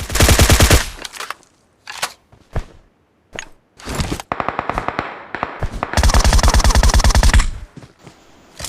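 Gunfire in the mobile battle-royale game PUBG Mobile: loud bursts of rapid automatic fire and several single sharp shots, separated by short pauses, with a long sustained automatic burst near the end.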